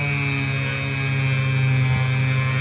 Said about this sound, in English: I'm trying to use it at the Dremel at a lower speed